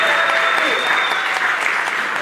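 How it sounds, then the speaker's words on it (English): A congregation claps steadily through a church service after a pocket trumpet performance, a dense and even round of applause that sustains at full level from start to finish with no gaps. "Can we get another round of applause for the tiny trumpet?"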